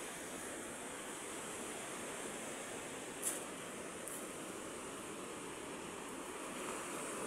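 Rough, choppy sea with waves washing continuously along a shore, a steady broad surf roar mixed with wind, one brief splash standing out midway.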